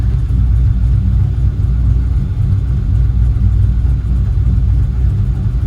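Continuous deep engine drone from a 1995 Impala SS 383ci V8 with a big cam at wide open throttle, a loud, steady in-cabin rumble with slight throb and no pauses.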